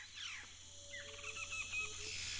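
Quiet jungle ambience in a retro PC adventure game, with faint chirping bird calls and a soft insect hum over a low background hiss.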